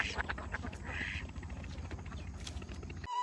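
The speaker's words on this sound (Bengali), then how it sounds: "নদীতে দেখেন অনেকগুলো হাঁস সাঁতার কাটছে" Ducks quacking while swimming in a river, faint and distant, several short calls over low rumbling background noise.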